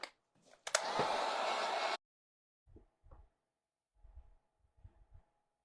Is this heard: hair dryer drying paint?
yes